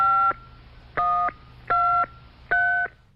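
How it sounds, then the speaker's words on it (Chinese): Four clear electronic touch-tone beeps from a public telephone keypad, each lasting about a third of a second and spaced roughly three-quarters of a second apart over a faint low hum, with no voices. "打公共电话给你"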